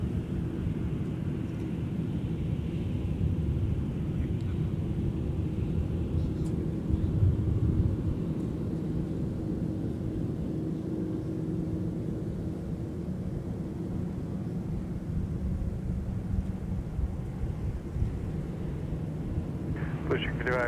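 A Delta A321-200 airliner departs MSP airport, heard as a steady low jet rumble and roar that carries through the whole stretch at moderate distance, with radio chatter and voices over it.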